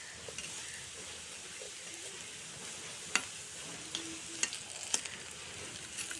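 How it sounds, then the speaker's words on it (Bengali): Taro leaf fritters frying in hot oil with a steady, dense sizzle, broken by a few sharp clicks and scrapes as they are turned and lifted out, with no talk. "বড়াটা আমাদের ভাজা হয়ে গেছে, এবার তুলে নেওয়া হচ্ছে"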